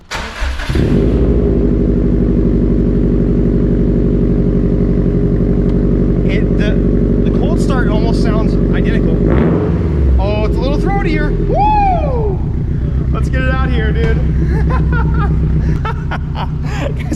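A Subaru STI hatchback with an aftermarket exhaust starts and settles into a deep, loud, throaty idle with a steady rumble, while people talk excitedly over it.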